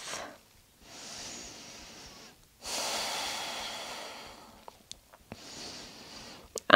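Slow, deep breathing during a fluid vinyasa yoga flow, close and soft, with three long airy exhales separated by quiet pauses, followed by a few faint clicks and another breath.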